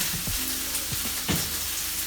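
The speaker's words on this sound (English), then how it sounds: "We are sauteing the vegetables." Vegetables for a Thai red curry sautéing in a pan, a loud continuous sizzle up close, broken by a few soft stirring scrapes and bumps.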